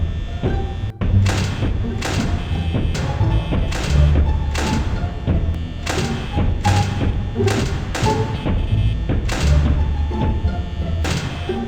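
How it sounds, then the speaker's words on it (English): Foxy banging on the office door in the Five Nights at Freddy's video game: a steady run of heavy, evenly spaced thuds, roughly one every second, loud and close over a low humming background. "If you're early, Foxy will bang on the door draining your power"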